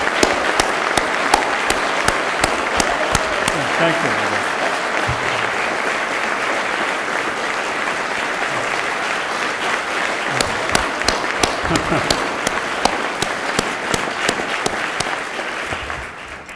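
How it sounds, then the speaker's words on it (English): An audience at a multi-day event bursts into sustained applause, a dense, fairly loud wash of clapping with sharp individual claps standing out at the start and end, fading slightly near the close; a brief spoken thanks is heard. "give a round of applause"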